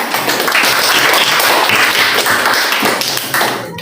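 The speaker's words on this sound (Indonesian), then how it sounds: "Tepuk tangan." Students clap together in a classroom, a dense, steady wash of applause lasting several seconds, fairly close and loud with no talking.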